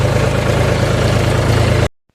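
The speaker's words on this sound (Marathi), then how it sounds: "आपण ट्रॅक्टर घेऊ घरी जाऊ आणि कार्यभाडाला सुरुवात करून देऊ" A tractor engine runs steadily at a low, even idle with a throbbing chug, close and loud, then cuts off abruptly near the end, leaving silence.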